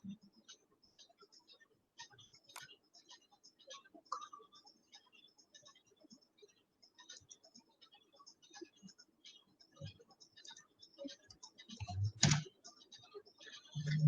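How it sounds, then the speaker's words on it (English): Someone types on a computer keyboard in a quiet room, producing faint, irregular key clicks in short bursts. A louder clatter of keys comes near the end, and a voice speaks at low level in places. "You can type the username like student 1."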